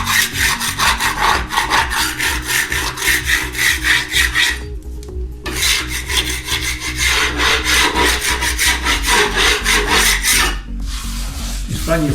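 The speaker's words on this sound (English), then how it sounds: "get my scraper and just scrape all the little tiny bits off that are loose" A hand scraper rasps repeatedly over an internal door, knocking loose bits off before filling, loud and close in quick rhythmic strokes with two brief pauses.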